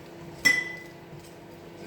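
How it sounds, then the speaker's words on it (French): A single bright clink of dishes rings out from a kitchen where washing-up is under way next door, followed by a quiet background hum. "Ils sont en train de me faire la vaisselle à côté"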